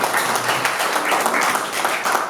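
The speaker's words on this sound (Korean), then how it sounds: "네, 박수 한번 해주시죠." Applause from an audience at a cryptocurrency workshop and seminar, a brief burst of loud, dense clapping throughout.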